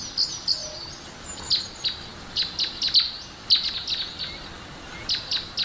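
High, thin chirps of baby birds repeat in quick irregular bursts of peeping against a quiet background.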